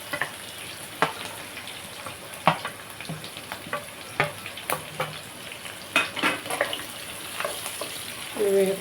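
Chopped onions and green chillies fry in a pan, a low sizzle punctuated by sharp, irregular stirring knocks and scrapes, close by, with a louder clatter near the end and no talking.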